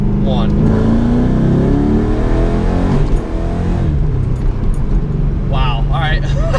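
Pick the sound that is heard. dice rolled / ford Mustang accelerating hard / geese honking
ford Mustang accelerating hard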